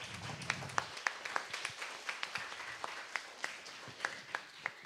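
Applause at a youth council session held at a school, with scattered individual claps standing out over a soft, distant background of clapping, fairly quiet overall.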